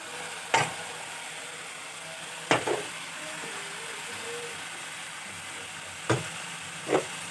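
Dried red chili paste frying in a fish curry masala for rui fish, a low quiet sizzle broken by a few sharp spoon knocks against the pan, close and with no voice.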